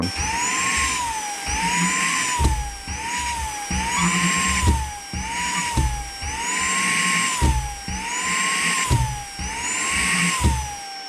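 A vacuum cleaner under a suction weight test runs continuously with a high whine that wavers and pulses in repeated cycles, loud and close, with periodic bumps as the load strains it; no talk.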